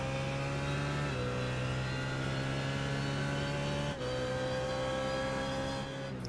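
Race cars at the 24 Hours of Spa-Francorchamps drone loudly and continuously, the engine pitch dropping sharply at gear shifts around one and four seconds, with no talk over it.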